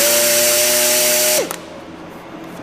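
A rivet shaver whirs loudly while shaving down a rivet head, running steadily for about a second and a half before cutting off abruptly and winding down to quiet.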